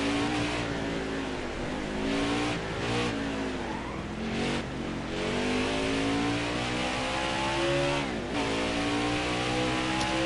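A race car engine in a racing video game on an Indy road course revs hard under throttle, its pitch climbing, dipping and climbing again in a loud, steady drone close up, with no voices.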